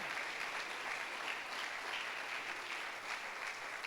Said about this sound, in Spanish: Dele un aplauso a la victoria de Cristo.